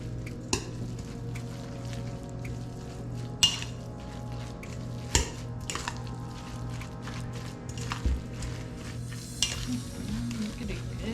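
Meatball mixture with almond flour and a cracked egg being mixed in a bowl for lectin-free meatballs, soft squishing with occasional utensil clinks against the dish, quiet and steady over a low background hum, with no talk.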